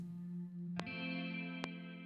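A guitar chord processed through the BABY AUDIO Crystalline reverb plugin rings with a washy, shimmering tail, struck twice with sustained layered overtones blending into a spacious haze.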